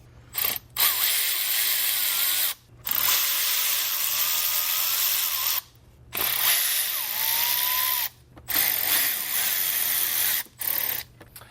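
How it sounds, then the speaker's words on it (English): A ratchet with a 7mm socket loosening hose clamps on the intercooler piping of a Mk8 VW Golf R clicks in four long, loud bursts of rapid pawl ratcheting, separated by brief pauses, with no talking. "We'll need a flathead screwdriver or a 7mm socket to remove the hose clamps."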